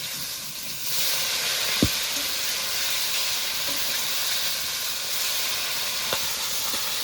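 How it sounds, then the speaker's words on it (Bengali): Flipped tilapia pieces sizzling in hot oil, a steady hissing crackle that swells after the first second, with a few sharp clicks and no voices. "মাছগুলো উল্টিয়ে নিয়েছি মাছগুলো আর একটু ভাজা হতে থাকবে"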